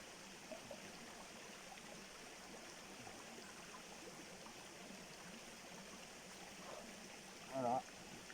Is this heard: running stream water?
yes